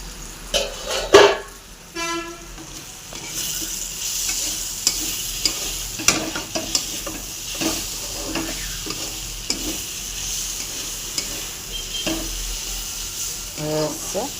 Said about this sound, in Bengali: লাউ ভাজা হয়ে এসছে।